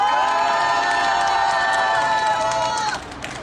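A crowd at a Tuesday evening protest culture rally roars with sustained cheering and shouting, loud and dense for about three seconds before tapering off.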